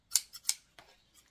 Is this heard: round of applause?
no